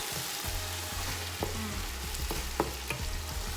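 Peppered beef stew cooking in a pan gives a continuous close sizzle and frying crackle with scattered sharper pops, steady in loudness and free of talk.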